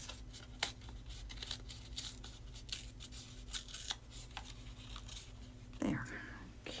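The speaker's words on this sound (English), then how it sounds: "Just gonna tear it some, make it a little bit smaller" Craft material being torn by hand to trim it smaller, a run of close, quiet ripping and crinkling strokes with one louder tear near the end, under a low murmur of talk.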